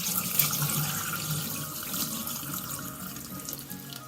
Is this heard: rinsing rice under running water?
yes